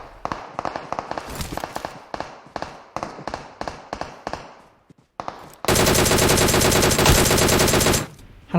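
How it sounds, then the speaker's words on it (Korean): Video-game gunfire in a hot-spring area of a battle-royale match: scattered single shots crack out at first, then a dense sustained automatic burst roars for a couple of seconds, loud and close. "벌써부터 총소리가 나네요."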